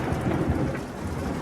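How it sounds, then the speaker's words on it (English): An early-morning thunderstorm over Marietta, Georgia, with a low rolling rumble of thunder beneath steady, heavy rain falling on surfaces. "the thunder cracked as the storms rolled through Marietta"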